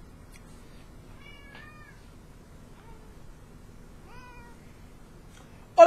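A house cat gives a few thin, rising meows spaced across several seconds, fairly close and alone against a quiet background, ending with a sudden louder burst.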